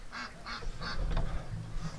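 Several ducks calling in quick bursts of loud honking quacks inside a smelly barn, close by, with about four distinct calls over two seconds and a low rumbling background.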